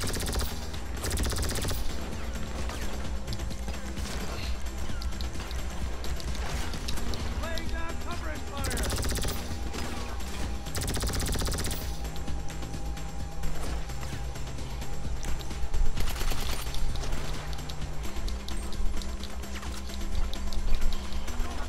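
Sustained rapid gunfire from an alien gun in Grand Theft Auto V, long rattling bursts with mechanical clatter and occasional crashes, loud and near, with talk over the shooting.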